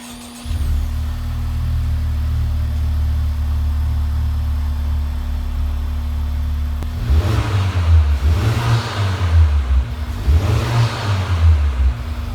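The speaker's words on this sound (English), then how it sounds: "here's a quick cold start" A 2019 Honda Civic Type R engine cold-starts after a low steady idle-like drone, then fires up and revs in several loud rising and falling surges, close and unaccompanied by talk.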